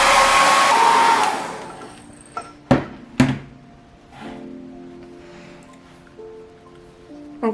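A hair dryer blows loudly over an abstract painting for about a second and a half, then cuts off, followed by a few sharp knocks and soft handling sounds in a quiet room.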